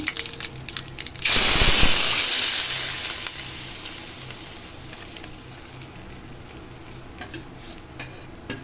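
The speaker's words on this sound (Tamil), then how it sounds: "இப்போ பவுலில் மாற்றி வச்சுருக்க தக்காளி சட்னி இதை ஊற்றி" Tomato chutney poured into a hot pan of tempering with curry leaves, bursting into a loud, bright sizzle that slowly fades to a softer, steady frying hiss.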